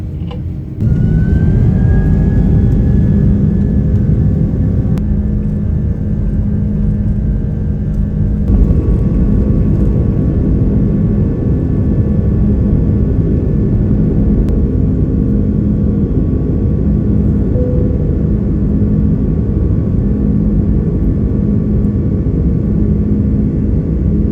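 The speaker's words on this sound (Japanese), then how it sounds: "無事羽田空港を離陸しまして" An Asiana Airlines jet airliner takes off from Haneda Airport at night, heard from inside the cabin as a loud, sustained engine roar with a rising whine that spools up and holds steady throughout.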